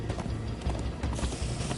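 Horse hooves clip-clop in a quick, steady rhythm during a video game, loud and close over a dense rumbling game background.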